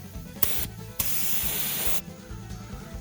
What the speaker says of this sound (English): So now that we have our gun set up, we'll start spraying these things.